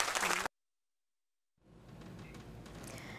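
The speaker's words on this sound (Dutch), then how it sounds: "Mag ik een applaus hiervoor?" Applause at a school's centenary celebration rises after a short silence and holds as a steady, moderately faint wash of many hands clapping.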